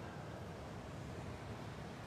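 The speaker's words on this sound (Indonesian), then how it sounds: "Besar juga ombak ni" Sea waves washing near a fishing spot where nets and fish traps are set, heard as a steady, faint broadband wash of surf with wind over the microphone, continuous throughout with no voices.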